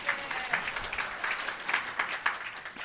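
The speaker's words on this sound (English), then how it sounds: "So I want to give him another round of applause." A lecture audience applauds, a steady wash of many hands clapping heard from a modest distance, continuous and fairly faint with no talk over it.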